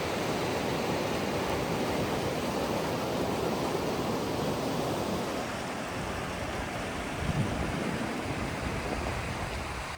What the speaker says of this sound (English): The sound of the Gunnison River was music to our ears.